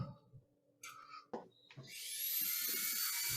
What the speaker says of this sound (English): 320 on the drill sander.